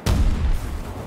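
A grenade detonates in Battlefield 2042, a single loud close boom with a deep low-end thump that decays over about half a second into a rumbling tail.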